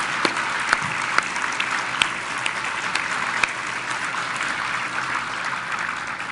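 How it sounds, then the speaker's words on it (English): Warm sustained applause from an audience at the University of North Dakota 2014 Sioux Awards ceremony, honoring award recipients; dense steady clapping with a few sharper individual claps, unbroken throughout. "Let's give another warm round of applause for our 2014 Sioux Award and Young Alumni Award Achievement recipients."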